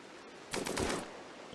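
A brief half-second burst of video game gunfire from a RimWorld firefight, a cluster of several rapid shots in quick succession over a steady low background, with no talk.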